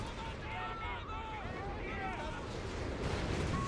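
Tracking artillery barrage in Company of Heroes 3, a dense rumbling wash of distant shell blasts mixed with whistling incoming rounds, steady and heavy throughout, while game voices talk over it.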